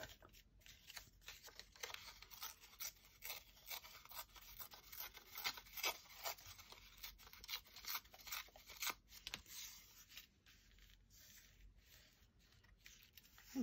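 Old music paper being torn and handled for a crafted envelope, a quiet run of irregular rips, rubs and crinkles close by, some short and some drawn out, without any talking.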